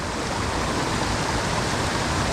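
Wild trout stream in Western North Carolina flowing steadily, a dense, continuous rush of water close by with no voices over it.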